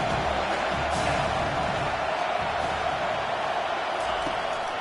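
Continuous stadium crowd roar from an NCAA football video game forms a dense, steady wash of noise, loud and unbroken throughout.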